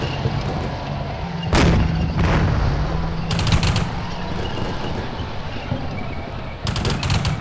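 Gunfire and artillery from the Combat Mission Shock Force video game as units return fire, with a heavy boom followed by several sharp bursts of shots and a low rumbling background, loud and with no voices.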